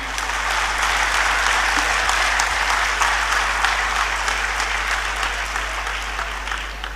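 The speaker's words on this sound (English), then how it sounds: "I think they particularly deserve a round of applause even before I speak." Audience applause at a thought-transformation seminar in Hyderabad, a dense, steady wash of many hands clapping from a large crowd, sustained and even throughout before fading slightly at the end.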